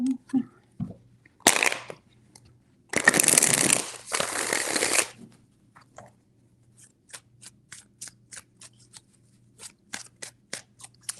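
Tarot deck shuffled close by: a couple of short riffles, then a long loud dense shuffle lasting about two seconds, followed by a run of light crisp card taps and snaps, with no talking.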